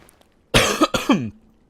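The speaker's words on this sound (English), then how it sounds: "I've got a little bit of a cough still." Two quick, close coughs in a row, harsh and throaty, from a person with a lingering cough, with a brief rasp trailing after; quiet room otherwise.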